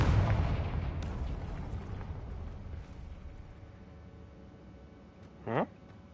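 Confringo blasting spell going off in the Hogwarts Legacy video game: a heavy, rumbling burst dies away into a long low tail, then a short sharp zap-like sweep sounds near the end.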